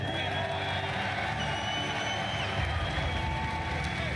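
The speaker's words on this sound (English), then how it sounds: "another round of applause for these fine gentlemen." A large esports championship crowd cheers and applauds the winning players, a loud, continuous roar of whoops and clapping filling the arena.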